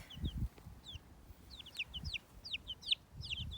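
Many high, short peeps from small chicks, scattered and overlapping, over soft low rustling and scratching nearby.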